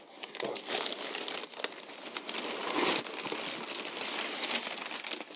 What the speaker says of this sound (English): So I'll go ahead and open the package